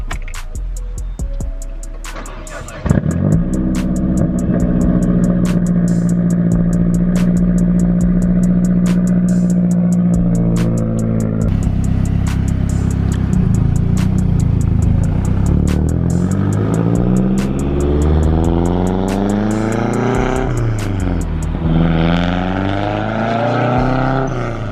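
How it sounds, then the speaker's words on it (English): A Mazdaspeed 3 with a new downpipe cold-starts with a loud crank and catch, then settles into a rumbling, droning idle with rising and falling engine tones and revs near the end, heard close with no talk. "Another preview cold start for you guys."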